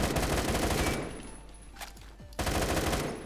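Automatic fire from an AK12 rifle in the Roblox game Phantom Forces, a loud rapid rattle that stops for about a second and a half, then starts up again.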